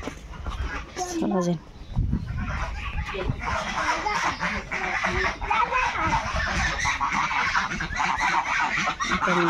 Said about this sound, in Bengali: ছোট রাজহাঁসগুলো বড় হয়ে গেছে,